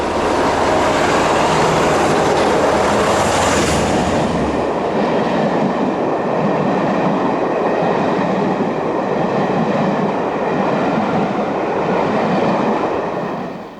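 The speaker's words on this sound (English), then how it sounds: "this being a cross-country train service for Birmingham and Manchester" A cross-country passenger train for Birmingham and Manchester passes on the Southern Railway, a loud, steady rumble of wheels and carriages with a brighter squeal early on, continuing close by and fading at the end.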